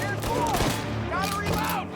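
Gunfire in the video game Mafia Definitive Edition, a dense burst of shots and a heavy blast mixed with game music and shouted voices, loud and close.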